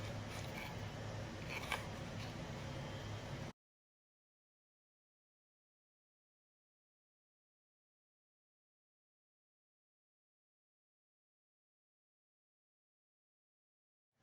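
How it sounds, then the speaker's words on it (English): Scissors fussy-cut small paper pieces for a handmade card, making soft close snipping and paper rustle for a few seconds before the sound drops to silence. "You take your time and you can cut around these little edges here."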